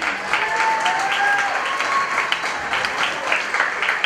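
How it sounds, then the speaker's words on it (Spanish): Audience applause for a dance group at a gala tribute event, a steady dense clapping that holds for about four seconds, with a faint tonal whistle or music line riding over it. "Recibimos a las chicas con un aplauso"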